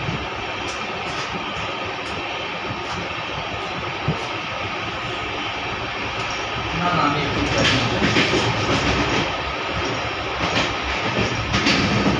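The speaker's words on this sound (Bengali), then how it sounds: "বলতে বলতে আমাদের ট্রেন চলে আসলো সাঁইথিয়া জংশন স্টেশনে।" Kulik Express arriving at Sainthia Junction station, heard from inside a Vistadome coach: a steady rumble of carriage and wheels, louder clattering toward the end as the train comes in.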